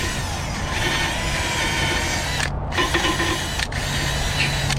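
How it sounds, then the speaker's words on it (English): A wire wheel grinds steadily against brake caliper hardware from a Nissan Rogue rear brake, making a loud, close, continuous whirring scrape that briefly dips twice as the part is repositioned. "Wire wheel it off."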